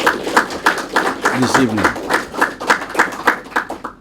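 Audience clapping in a steady rhythm of separate claps, with someone speaking over it.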